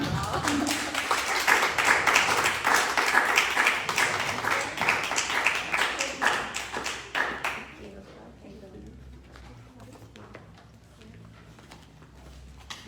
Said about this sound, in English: Can we give the poets another round of applause?